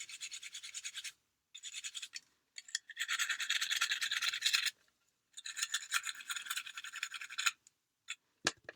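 Rapid, rasping strokes of sanding against a polymer clay tin arrive in close bursts separated by short pauses, bright and scratchy, with no voices.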